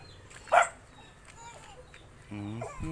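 A dog gives one sharp bark from a short distance, followed by quiet background noise, and then a person starts talking.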